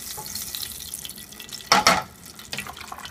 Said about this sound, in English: Now I've got the oil heating up, and you can see all those beautiful bacon bits in there.